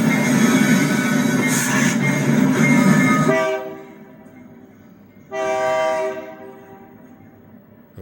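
A BNSF freight train passes close by a SkyTrain line, loud rumbling rail noise that drops off abruptly, followed by a short sustained horn blast at mid-distance.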